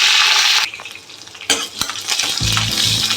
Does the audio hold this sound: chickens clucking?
no